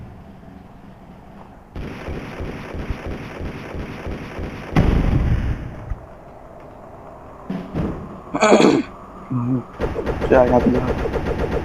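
Gunfire in the video game Deer Simulator: Future World, a series of loud, rapid game shots and impacts in bursts, heard under someone talking casually throughout.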